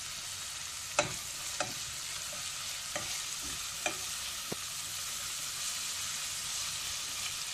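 Onions sautéing in a pan with salt for an okra curry, a quiet continuous hiss of frying with a few sharp taps of a spoon stirring against the pan.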